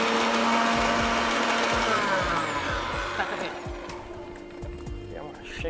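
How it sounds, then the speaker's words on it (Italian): A blender chopping raspberries, sugar and lemon whirs loudly and steadily, its motor pitch dropping partway through as the blade works, with people talking nearby. "Ok, andiamo a tritare."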